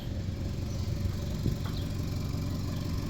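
A Toyota Camry with a freshly swapped engine idles with a low, even rumble and steady hum, close by and running smoothly with no talk over it.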